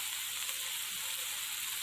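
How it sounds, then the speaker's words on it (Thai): Frog pieces stir-fried with ginger and wood ear mushrooms sizzle steadily in a hot pan, a continuous bright hiss with faint scraping of stirring, close and even throughout. "ผัดให้เข้ากันนะคะ"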